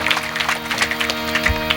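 A single burst of audience clapping at a Marathi kirtan during an Akhand Harinam Saptah in Kalvi. It rings out briefly over a steady musical drone.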